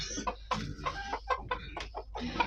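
Chickens cluck in a busy, rapid chatter nearby, with a rooster's voice among them, fairly quiet with no talking.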